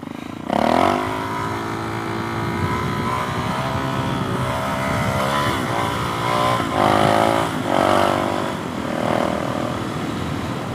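A Suzuki DRZ motorcycle engine given a little throttle in first gear, a loud, close, sustained drone that rises and falls in pitch over several revs with no voices.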